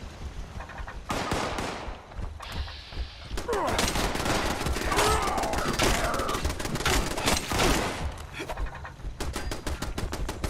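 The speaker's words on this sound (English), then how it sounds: "Get them, machine gun turrets." Machine gun turrets in the Fallout 76 beta fire dense bursts of rapid, loud, close gunfire that blend into a sustained volley, with brief gaps at the start and end.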